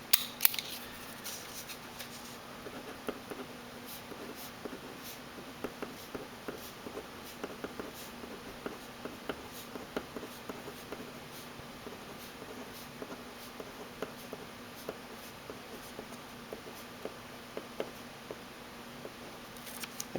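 A Pentel WOW! ballpoint pen writing on paper, faint close scratchy strokes in quick irregular bursts over a quiet background with a steady electrical hum.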